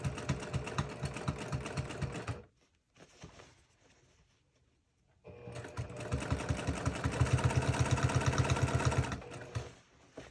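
A sewing machine stitches along the edge of a boho fabric bag, its rapid rhythmic needle chatter running steadily, pausing briefly, then resuming in a longer burst up close.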